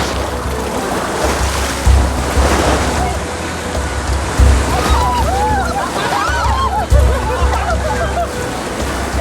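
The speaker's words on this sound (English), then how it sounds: "On a sunny weekend, dozens of rafts and kayaks negotiate the cataracts." White water river rapids with dozens of rafts and kayaks on a sunny weekend, a steady loud rush of churning water with surging low rumbles and splashes, mixed with wind and faint distant voices.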